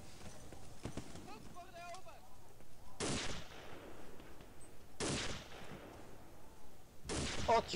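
Gunfire in the World War II shooter Day of Defeat: three loud, sharp shots spaced about two seconds apart, each bursting over a busy background of game noise and faint voices.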